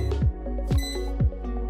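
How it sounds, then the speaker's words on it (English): A Cosori air fryer, model CP158-AF or CP137-AF, gives four loud, close electronic beeps with a ringing tone, one about every half second. "You'll know the air fryer is done cooking when you hear it beep 3 times."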